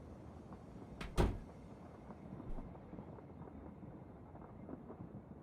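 A room door closes with a single sharp, fairly close thud against a quiet, breathy room background, followed by a fainter bump.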